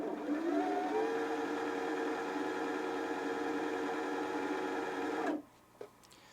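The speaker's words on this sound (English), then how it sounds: "you'll see that it is nicely threading this bobbin. And it's moving up and down as it goes" A sewing machine winds thread onto a bobbin with a steady, even motor whir and a constant tone, running smoothly for about five seconds before stopping, followed by a couple of faint clicks.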